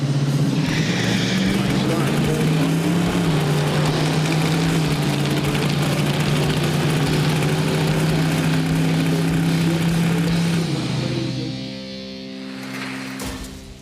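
A '72 Chevy Nova drag car roars loudly in a steady, sustained engine drone while staging and launching down the track, then fades away near the end, with voices mixed in.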